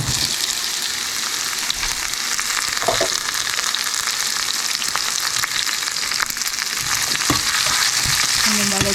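Onions frying in a pan after cumin and garlic, a steady bright sizzle filling the clip with occasional stirring clinks and scrapes, close and fairly loud with no talking.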